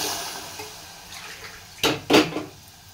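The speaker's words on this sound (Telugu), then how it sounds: "ఇదిగోండి గ్లాసున్నర వాటర్ వేసానండి" Water is poured into a cooking pot holding raw papaya and red lentil curry, heard as two short, close splashing bursts after a quiet stretch.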